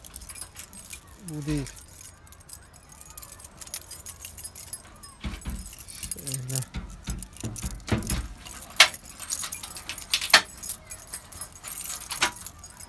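A big bunch of keys jangles and clinks in repeated bursts at a poultry coop while someone speaks briefly, with outdoor background noise around.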